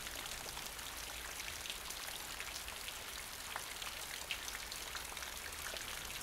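Cartoon sound effect of heavy rain pouring down: a dense, constant hiss of falling water with scattered drop patters, steady and unbroken, with no voices.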